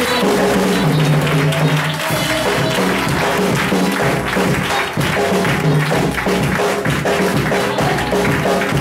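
Crowd applauding at a foundation stone-laying ceremony for a missionary centre, loud sustained clapping with rhythmic pulses, dense and continuous for the whole stretch.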